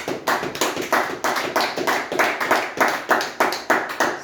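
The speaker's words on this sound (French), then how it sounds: "Est-ce qu'on peut acclamer très fort?" A church congregation claps loudly in a steady, even rhythm, with many hands striking together on each beat for several seconds and no talking.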